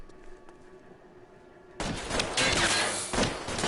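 Gunfire in the video game L.A. Noire: after a quieter stretch, a sudden loud burst of rapid shots erupts and carries on as a dense fusillade to the end.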